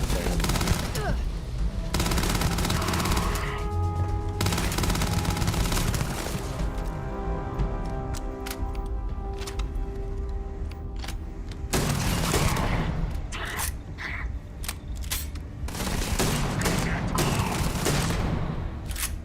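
Heavy gunfire from a four-shot shotgun in the sci-fi video game Starfield: loud, dense volleys of shots that roll on almost without pause, broken by a few brief lulls, with battle noise layered underneath.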